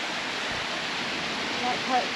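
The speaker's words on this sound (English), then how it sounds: "first little waterfall." A small roadside waterfall on Australia's Waterfall Way, in rain, rushes in a steady broadband hiss that stays constant.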